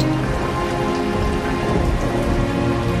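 Steady rain falls in a Sims 2 machinima scene, a dense continuous patter with no talk over it and faint hints of distant thunder beneath.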